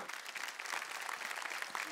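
A live kirtan audience bursts into steady, dense clapping, a continuous crackle of many hands at moderate distance, with a faint voice underneath.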